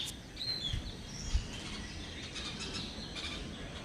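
Faint, scattered bird chirps and tweets over a quiet outdoor background, with no one speaking.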